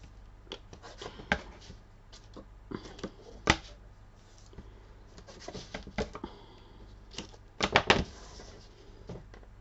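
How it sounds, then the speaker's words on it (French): Double-sided tape being peeled and pressed onto a handmade card, scattered close taps, rustles and sharp crackles with pauses, a quick burst of handling near the end, no talking. "pour le coller, je vais venir prendre du double face et je vais le coller tout simplement au double face"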